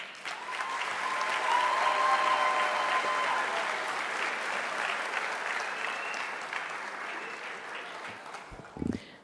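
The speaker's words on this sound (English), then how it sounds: "So give them a round of applause." A crowd at a graduation ceremony claps steadily in sustained applause that swells and then gradually tapers, with a brief louder patter near the end.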